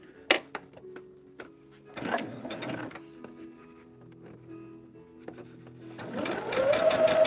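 Sewing machine stitching fabric pieces for a star table runner, with short bursts of rapid mechanical whirring and clicks broken by pauses, building to a longer steady run at the end.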